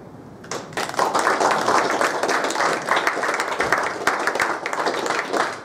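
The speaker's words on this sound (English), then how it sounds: "I always laugh about this when you get applause before you've done anything" Audience applause at the NZAS awards ceremony, a steady dense crowd of many hands clapping, full and sustained, rising after a brief start and continuing without talk.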